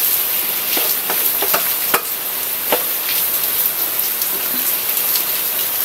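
Corned beef sizzles and crackles steadily in a hot pan as a spoon or spatula stirs it, with occasional scraping taps against the pan under the dense, continuous frying hiss.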